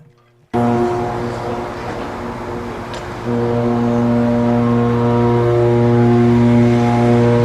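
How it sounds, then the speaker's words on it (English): Queen Mary 2 cruise ship sounding its deep horn while departing Southampton, a loud sustained low blast with a rich stack of tones that swells to a fuller, stronger blare partway through and holds steady. "pretty much every time at about that spot she honks a horn"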